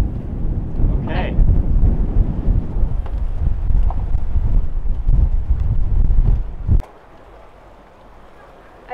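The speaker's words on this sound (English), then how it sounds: "I love how the wind just switches on like that." Strong wind roars steadily against the microphone aboard a sailboat, loud and close for several seconds before suddenly dropping to a quiet hush.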